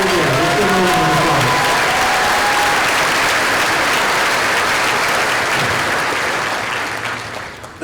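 Loud, sustained applause fills a large auditorium during a school district keynote address, a dense crowd clapping steadily for several seconds before tapering off near the end.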